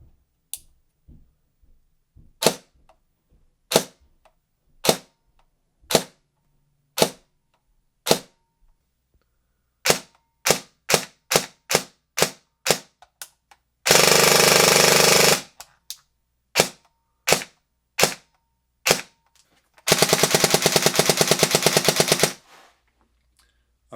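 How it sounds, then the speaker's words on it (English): A CYMA MP5 airsoft gun, upgraded with a Perun hybrid trigger unit on an 11.1 V battery, fires 0.25 BBs in sharp single shots. Two long full-auto bursts cut in loud and close. "So yeah, let's test fire this bad boy."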